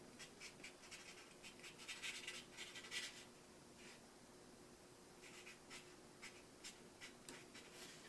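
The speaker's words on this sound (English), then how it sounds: "I like to take a Sharpie and write on it the date that I install the filter" A Sharpie marker writes a date onto the cardboard frame of a home furnace filter, giving soft, close scratchy strokes in short bursts, with a faint steady hum in the background and no speech.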